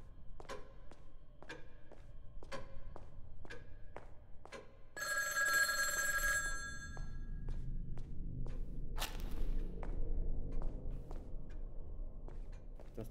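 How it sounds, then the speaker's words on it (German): In the video game Obscuritas a telephone rings once in a sustained bell burst, preceded by regular ticking or footstep-like taps and followed by a low rumble and a sharp transient, with no talking. "Das Telefon klingelt."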